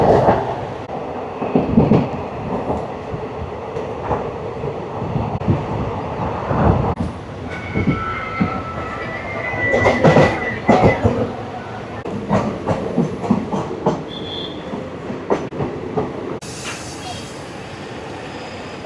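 An Indian Railways passenger train running from Kasaragod to Kozhikode, heard from inside the coach: a steady rumble with rhythmic wheel clatter, occasional rattles and brief squeals, and people talking faintly in the background.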